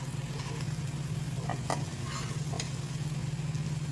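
Leftover bhakri pieces being mixed with salt, soft scraping and rustling from stirring, with a few brief sharper scrapes over a steady low hum.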